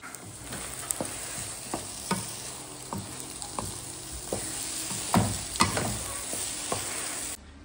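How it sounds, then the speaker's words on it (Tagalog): Scrambled eggs with tomatoes and white onions sizzle steadily in a pan while a spatula scrapes and taps in a regular stirring rhythm, close and fairly loud. "Gilo na din nato ang itlog ni Manoy"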